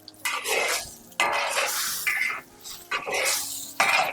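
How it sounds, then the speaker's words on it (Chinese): Beef, potatoes, chili peppers and garlic stir-fried in a pan, with bursts of scraping, clattering and sizzling that come and go in irregular waves, loud and close with no talking. "再下入小米椒和大蒜，然后给它翻炒均匀"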